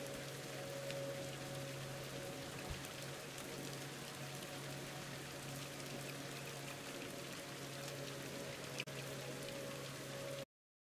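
Continuous rainfall in the game Viewfinder, a soft uniform hiss of drops pattering on surfaces over a faint low drone, with one small knock partway through.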